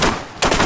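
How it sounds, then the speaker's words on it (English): A short, close burst of machine gun fire in an Arma 3 battle, cutting off briefly before another volley starts. "Just taking return fire on this position right now."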